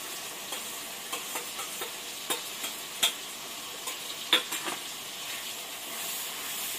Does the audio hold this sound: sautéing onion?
yes